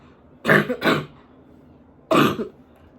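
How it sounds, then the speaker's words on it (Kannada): A woman with a cough coughs and clears her throat up close, two quick harsh bursts and then one more after a pause, with no talk. "ಸೊ ನೋಡಿ, ಈ ಥರ ಕೆಮ್ಮು ಬರುತ್ತೆ."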